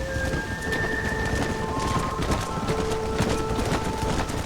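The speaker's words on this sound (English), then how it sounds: "This storm came out of nowhere." Steady rain pours throughout a thunderstorm on the open range of New Austin in Red Dead Redemption, with low rolling thunder and faint scattered clicks beneath the continuous hiss.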